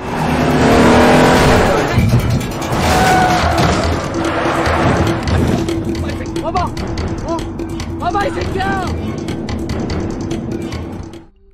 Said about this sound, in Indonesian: Meski mobil Kite sempat lolos, tapi Dongchul tetap gigih mengejar si kampret Kite dari belakang.